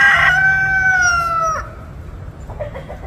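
Backyard rooster crowing loudly and close for about a second and a half, its long drawn-out call fading out, followed by a few faint clucks from chickens.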